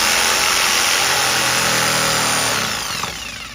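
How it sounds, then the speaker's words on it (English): A sawzall or jigsaw cuts through a wooden deck stringer with a loud, continuous buzzing rasp up close, slowing and fading out near the end of the cut. "you just take your sawzall or your jigsaw here"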